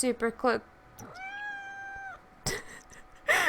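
A single drawn-out cat meow rings clearly between bits of nearby talking, a steady tonal cry lasting about a second.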